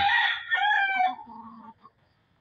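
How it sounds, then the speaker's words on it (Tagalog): A rooster crows once, a loud drawn-out call that fades, followed by a short cluck in quiet surroundings. "Ayan mga manok natin."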